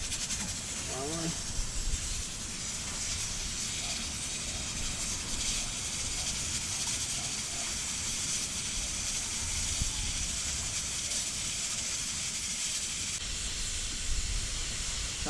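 Pressure cooker cooking peas with garlic, a loud steady steam hiss that runs without break throughout, with faint background noise underneath.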